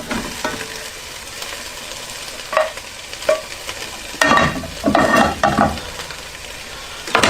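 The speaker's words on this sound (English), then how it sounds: "Give that a stir." Minced meat frying in a pan, a constant sizzle broken by scraping and clattering bursts as a utensil stirs it, close and fairly loud with no speech.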